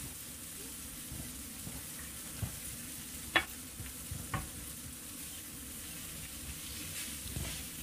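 A spoon stirs king oyster mushroom pasta in a hot pan, with a steady soft sizzle of frying and a few scraping clacks from the utensil close up.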